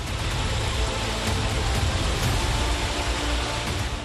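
Heavy monsoon rain in Uttarakhand pours down as a steady, dense hiss, continuous and fairly loud from start to finish with no talking.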